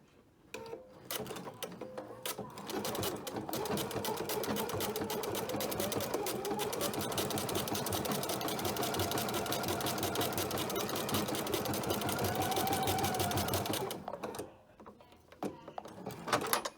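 A sewing machine chain stitches a hip bag purse, running in one continuous, fast, rhythmic whir and clatter for about twelve seconds before stopping, loud and close, with brief handling clicks before and after.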